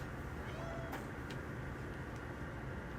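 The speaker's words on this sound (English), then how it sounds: "our cat wants to come in here" A cat meowing outside a closed door, a brief muffled meow or two over a steady background hum, faint and somewhat distant.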